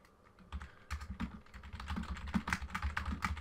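Rapid, uneven keystrokes clatter on a computer keyboard close by, a dense burst of clicks that speeds up after a short quiet start, with no voices.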